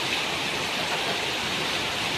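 Heavy rain pours steadily during a typhoon in Mariveles, Bataan, a dense, unbroken hiss of falling water close by with no voices.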